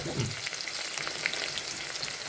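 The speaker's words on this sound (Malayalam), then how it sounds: "ഇനി നമ്മൾ സവാള വറുത്തെടുക്കണം" Steady crackling sizzle of onions frying in hot oil for chicken biryani, close and continuous, with a brief soft clink at the start.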